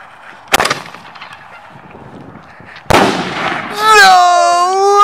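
Excalibur firework mortar shells launched from a hand-held canister: two sharp loud pops about two seconds apart, then a lingering crackle, with excited voices shouting over the end.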